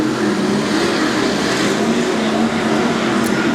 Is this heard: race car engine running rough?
yes